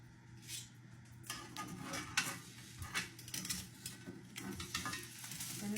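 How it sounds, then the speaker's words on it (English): Beef bones sizzle in a pan for dark brown beef stock, a soft crackling fry with occasional scrapes and clinks as pieces are turned, quiet and close under a low steady hum. "And it start to sizzle"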